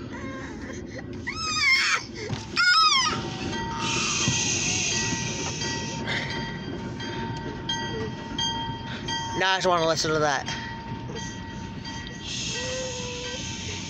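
An OC&T freight train rolls past in Titusville, Pennsylvania, with a continuous rumble and hiss, high metallic squeals and a ringing tone, while people talk nearby.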